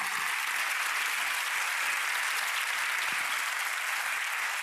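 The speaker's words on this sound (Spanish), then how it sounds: "den un aplauso muy fuerte al Señor" A church congregation applauds loudly during a sermon, a dense, even wash of clapping from many hands that holds steady throughout with no voices on top.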